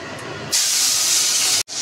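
Mixed vegetables, carrot, beans, capsicum and cauliflower, hit hot oil in a wok with a sudden loud hissing sizzle that holds steady, briefly cuts out, then resumes.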